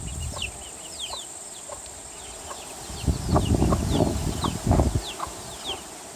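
A rooster and chickens cluck on and off nearby on an evening farm, building into a busier burst of clucking, with small birds chirping in the background.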